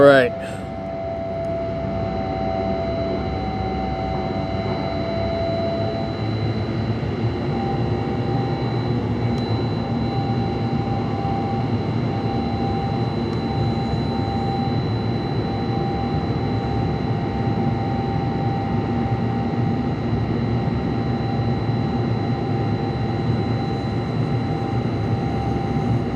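A DJI drone flies over an oceanfront while making an odd sound, a steady tonal whine with harmonic lines holding under a broad droning roar for the whole stretch, fairly close and even in level.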